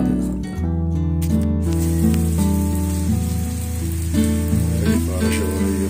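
Heavy, torrential rain pours steadily as a constant wash of hiss, mixed with a sustained tonal hum throughout.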